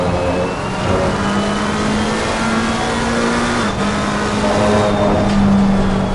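A McLaren race car in a racing video game roars continuously and loudly at high revs, its engine tone rising and shifting steadily throughout, with no voices over it.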